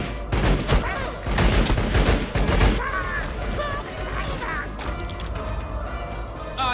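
Dense, rapid gunfire and impact crashes ring out in the video game Warhammer 40,000, a burst of overlapping shots and smashes, then continuous battle effects and music at lower intensity.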